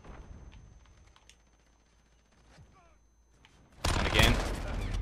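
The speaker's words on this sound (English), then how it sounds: "Oh, the VTOL's shooting me." Gunfire from a VTOL aircraft in Call of Duty Modern Warfare breaks out as a loud, dense burst of rapid shots near the end, after quieter game noise and scattered clicks.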